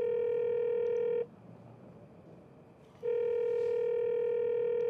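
A telephone call rings unanswered, two long, steady electronic ringback tones separated by a pause of about two seconds, clear and close with no voices.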